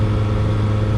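Eurofox light aircraft engine idling after magneto checks, a steady low droning hum that stays even and continuous, close and fairly loud with no voices.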